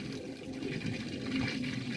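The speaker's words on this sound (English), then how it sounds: "We've got water coming out this end." Water gushes steadily from the open end of a hose or pipe at a shed, a continuous rushing, splashing flow heard close and alone.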